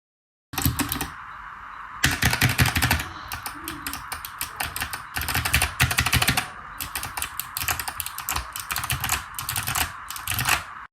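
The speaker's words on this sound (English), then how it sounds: "the sound difference between loud hard typing and soft gentle like sort of tap typing" Typing on a Kinesis TKO 60% mechanical keyboard in bursts, some passages loud and hard-hitting, others softer and lighter, with brief pauses between runs of rapid clacking keys.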